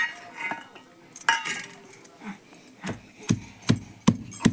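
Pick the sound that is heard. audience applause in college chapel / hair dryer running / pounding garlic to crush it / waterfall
pounding garlic to crush it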